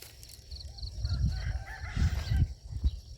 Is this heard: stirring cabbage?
no